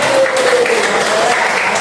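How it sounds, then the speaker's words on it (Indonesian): Brief burst of group applause from a class of teachers at the end of a coaching and academic supervision lesson, steady clapping filling the moment. "tepuk tangan dulu buat kita semua"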